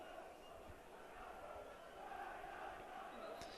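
Football fans of Dila Gori cheering at Energi Park after a goal against AGF Aarhus in a Europa League qualifier, a broad distant crowd roar heard faintly throughout beneath a commentator's voice.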